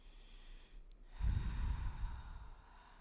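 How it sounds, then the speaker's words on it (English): One slow, deep breath is taken close to the microphone: a soft, airy inhale swells into a fuller breathy rush that fades away in an otherwise quiet room. "So take a deep breath with me."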